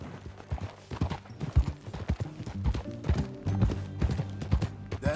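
Hoofbeats of a horse being ridden in Red Dead Redemption 2, a steady clip-clop rhythm at close range with a brief whinny-like sound in places and low background game sound, no talk.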